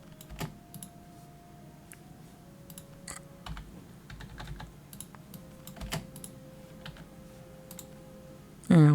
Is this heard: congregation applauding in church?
no